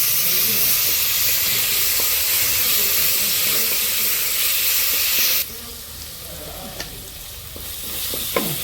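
Crushed ginger and green chili sautéing for a chicken curry, stirred in a pan with loud, continuous hissing sizzle that drops off sharply midway, leaving quieter frying and occasional scrapes.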